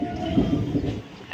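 Kavi Guru Express passenger train rolling slowly into Bandel Junction, a low rumbling roar with a faint squeal of wheels and brakes, heard from on board, fairly loud and steady.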